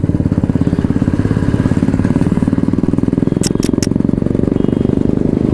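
A motorcycle being ridden on a hill road in Uttarakhand, its engine droning steadily and loud throughout with a rapid pulsing rhythm, close to the rider, with a few brief high clicks near the end.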